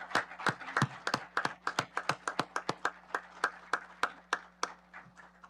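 Sparse, light handclaps in a ceremony hall, a few people clapping in a steady, uneven patter that stays fairly faint and thin throughout.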